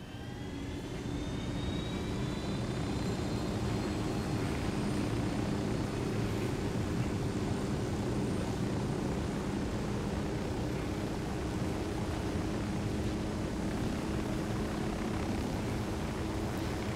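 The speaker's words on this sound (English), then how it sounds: "this might be our helicopter" A helicopter in the video game Ghost Recon Wildlands drones steadily with a constant engine and rotor roar, holding an even loudness throughout with no talking.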